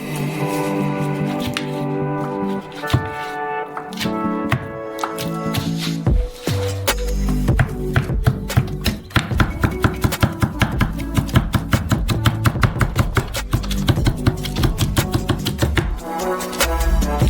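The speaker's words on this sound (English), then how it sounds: "the last thing you need to cut is bacon" A knife chopping bacon on a cutting board, starting with uneven cuts and settling into a fast, steady run of sharp, close, loud chops.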